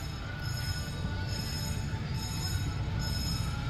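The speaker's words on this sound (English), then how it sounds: "right over here is the tram that goes around" A tram circling an amusement park rolls past with a steady rumble and rail noise, continuous and moderately close throughout, with no voices.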